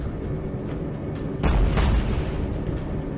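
A ship's ammunition magazine detonates in the naval game Battlestations: Pacific, a deep rumbling boom swelling midway over continuous battle noise, fairly close and loud.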